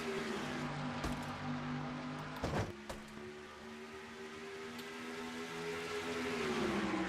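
Stock cars in a racing video game at Charlotte in the Mello Yello 500, a steady engine drone with layered whining tones, a couple of sharp clunks early on and a rising whine toward the end.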